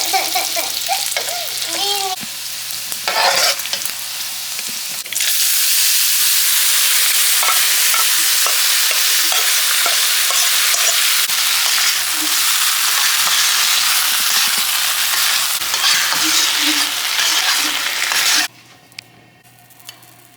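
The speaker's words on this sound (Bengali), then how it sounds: "এখন আমরা পেঁয়াজ মরিচ ভেজে এটা তেলে ফেলে দেবো।" Onion and chilli fry in oil with a loud, steady crackling sizzle, broken by stirring scrapes and a brief quieter stretch early on, before the sound drops away near the end.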